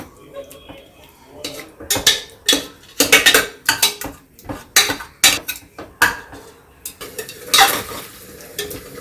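Repeated scraping and pressing of a utensil mashing cooked onions, garlic and tomatoes against a pan, in uneven bursts, with a soft sizzle beneath the clatter.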